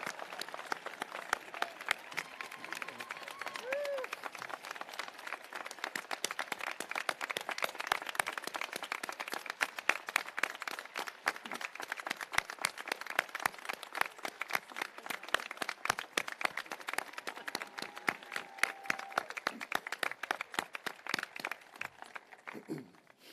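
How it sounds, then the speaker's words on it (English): A large graduation crowd in a hall applauds at length, a dense, sustained patter of many hands at moderate distance that holds steady for over twenty seconds, with occasional faint voices mixed in. "please join me in a well-deserved round of applause and a thank you for Ms."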